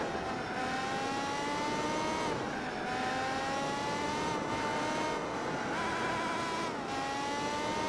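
Race car engines in Gran Turismo 4 during a championship race chasing a BMW, a steady loud whine that rises in pitch, drops sharply at gear shifts, and climbs again through several upshifts, with no talking.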